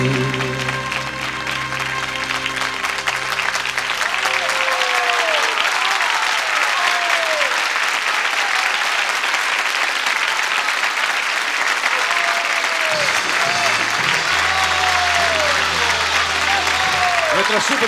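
A live audience at the Casino Municipal de Viña del Mar, Chile, bursts into sustained applause after a 1980 concert song, dense clapping filling the room for most of the stretch while a presenter speaks over it and music fades at the start.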